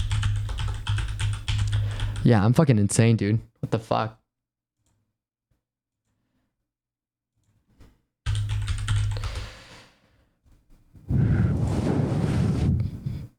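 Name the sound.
typing on a computer keyboard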